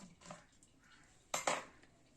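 Cut paneer cubes are tipped into a bowl of mixed marinade, giving a few close clinks and knocks of dish and utensil, with two sharper taps near the end.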